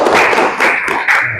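A group of students claps hands together on cue in a classroom training session, making a few loud, short bursts of clapping close by.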